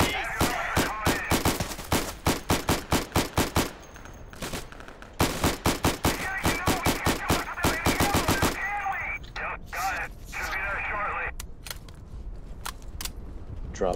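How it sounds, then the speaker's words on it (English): Rapid machine gun bursts from the World War II shooter Day of Infamy, loud and close, come in long rhythmic volleys and then thin out to scattered single shots. "Gunshots."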